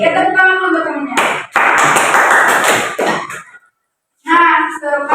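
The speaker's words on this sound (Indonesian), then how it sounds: "Kita tepuk tangan dulu buat temennya." A small classroom group claps for a classmate during a mathematics microteaching lesson, a brief burst of hand claps between stretches of a teacher talking, ending in a short silence before speech resumes.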